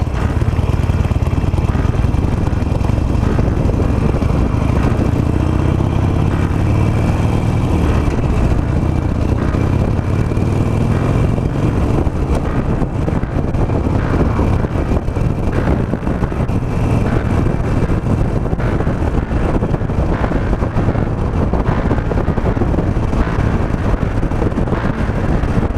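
A 17-year-old Harley Davidson Nightster motorcycle rolls downhill, its steady low engine rumble buried under loud, continuous wind buffeting across the microphone throughout.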